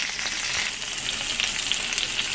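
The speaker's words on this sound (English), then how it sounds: "you can hear that grease is popping" Grease crackles and pops steadily in a pan on a stovetop burner set to 5, a dense close sizzle with scattered sharp spits throughout.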